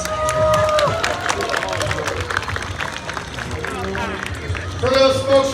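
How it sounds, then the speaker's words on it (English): Outdoor crowd at a Canada Day celebration in an amphitheater applauding, scattered clapping and cheering under a busy murmur of voices, with a whistle or tonal cry rising near the start and again at the end. "let's give them a round of applause"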